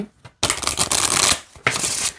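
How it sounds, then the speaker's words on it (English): A large oracle card deck riffled side by side: two loud, crisp shuffling bursts, the first longer, the second shorter after a brief pause, close up with no talking. "This is how I like to shuffle bigger decks like this, side by side."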